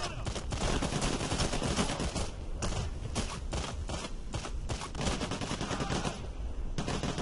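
Rapid automatic gunfire from a Payday shootout rattles on almost without a break, loud bursts broken by short pauses, with a voice faintly mixed in.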